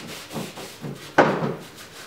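A cloth rubs dark wax over wooden furniture in several short back-and-forth strokes, ending in one sharper scuff, soft and close with no voices.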